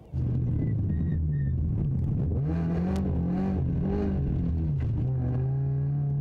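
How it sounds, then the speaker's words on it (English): A powerful car engine revs up and down loudly, pitch rising and falling as the tires slip, with a brief high whistle early on. "That car is a beast. It has quite a bit of horsepower behind it, and those wheels, they like slipping."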